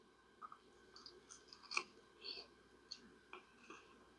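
Close, quiet chewing of a thick gluten-free pizza crust made with King Arthur gluten-free flour, dipped in marinara sauce, with soft irregular crunchy bites and mouth clicks spread across a few seconds.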